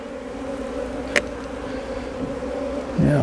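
Bees hum steadily in a close, continuous drone after being tapped down from a hive frame into a half-cup measure, with one sharp knock partway through and a louder rustle near the end.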